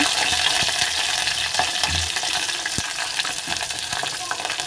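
Green chillies and onions fry in hot oil with a strong, continuous sizzle, punctuated by a few sharp ticks and clinks of stirring in the pan.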